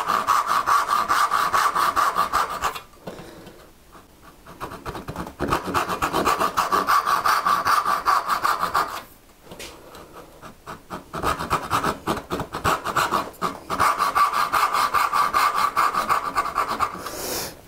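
A hand saw cuts vertical dovetail walls in wood, its steady rasping push-pull strokes loud and close in three long runs separated by brief pauses, with no talking.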